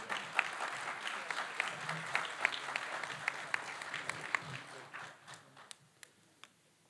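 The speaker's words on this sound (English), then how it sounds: "Give John a warm round of applause." A seminar audience applauds steadily, many hands clapping in a dense patter that thins out into a few scattered claps near the end.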